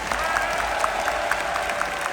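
An audience at Paris Games Week claps together in a dense, steady wash of applause that continues throughout, heard from within the crowd with a few individual claps standing out.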